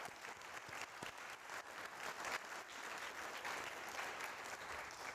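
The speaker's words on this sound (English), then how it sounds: "one more round of applause for you guys" Audience applause at an Air Force Research Laboratory event, a steady wash of clapping from a crowd, sustained evenly and heard at a distance at low volume.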